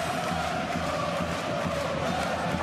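Ice hockey arena crowd at an Örebro versus HV71 game, a steady dense murmur of many voices filling the space, moderately loud and continuous with no distinct cheers standing out.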